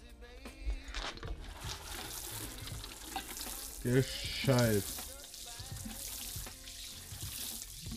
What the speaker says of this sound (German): Jetzt da mal gescheit angießen.